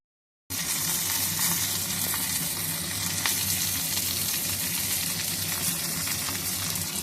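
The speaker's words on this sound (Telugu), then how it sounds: "పల్లీలు వేయించాను." Peanuts roasting in a pan for peanut chutney make a steady, close, loud sizzling and rattling hiss that starts abruptly and continues without pause, alone with no speech.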